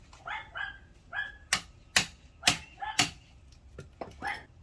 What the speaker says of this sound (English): That dog's ruining my video.